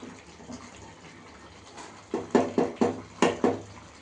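Water is poured into a pot of simmering masala pulusu curry, beginning with faint trickles and then breaking into a run of loud, close splashes and glugs near the end.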